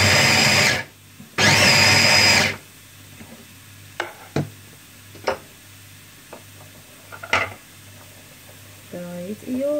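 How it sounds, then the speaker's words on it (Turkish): A food processor grinds walnuts, almonds and hazelnuts in two loud whirring bursts, followed by scattered clicks and knocks and a short voice near the end. "Şimdi cevizimiz, bademimiz ve fındığımızı buz yapalım. Robottan geçirelim."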